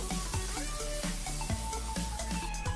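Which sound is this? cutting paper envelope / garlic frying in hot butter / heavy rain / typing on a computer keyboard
garlic frying in hot butter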